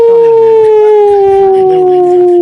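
A dog in a jungle setting gives one loud, long, sustained howl that slowly falls in pitch and stays close and dominant throughout.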